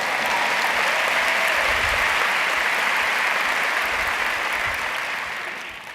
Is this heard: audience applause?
yes